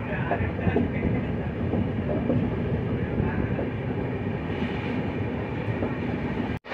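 Weekly express train from Mysuru to Bengaluru running at good speed, heard from onboard as a loud continuous rumble of wheels and rail noise with faint clatter, ending in an abrupt sharp thud.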